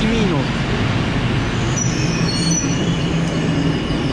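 A PKP passenger train rolls into a Polish station, its steady low rumble filling the whole stretch with faint squealing wheel tones rising and falling above it, continuous and fairly close.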